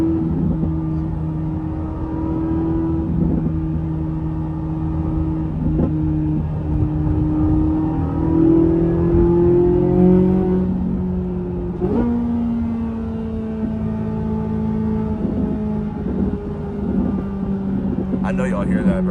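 A Corvette C8 Z06 droning at speed on an open highway at night, its engine a steady, strong hum with gear-shift changes in pitch, heard from inside the cabin while the driver talks over it.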